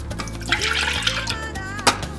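Nut milk pours into a Starbucks mug in a steady, close liquid stream with small splashes and gurgles over a low background hum.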